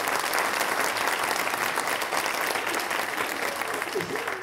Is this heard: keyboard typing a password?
no